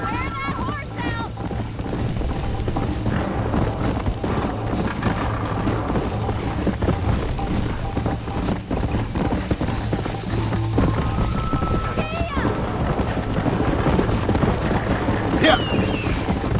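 Rhythmic clip-clop of galloping horse hooves in Red Dead Redemption runs steadily throughout, with a low engine-like hum and occasional game sound effects layered over it.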